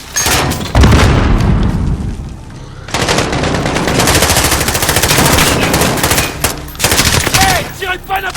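Loud gunfire in Call of Duty Modern Warfare, with sustained bursts of rapid automatic shots and heavy reports running nearly throughout, broken by a short lull.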